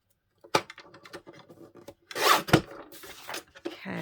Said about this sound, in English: Let's just cut this down to size a little bit